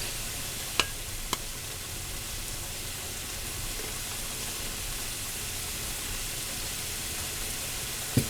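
Garlic goes into sliced onions sizzling in a pan for a Mexican yellow squash side dish. A steady, close hiss runs throughout, broken by a couple of sharp clicks.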